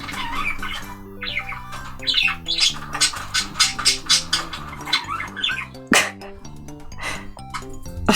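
Pet birds squawking indoors in sharp, repeated calls and chirps, some loud bursts close by, with a faint background tone running underneath.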